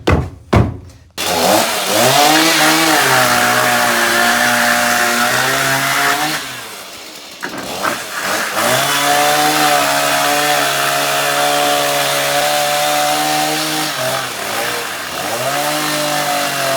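A chainsaw roars close and loud as it cuts through the interior fittings of a van, its revving dipping briefly a couple of times before bearing down again.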